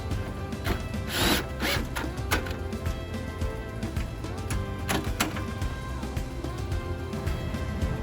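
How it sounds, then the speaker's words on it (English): Screws go into a Jeep rear door hinge with a power tool: short whirring driver bursts and clicks over a dense, constant noisy background, close and moderately loud, with no speech. "Now once we set it here, we can install our screws back on"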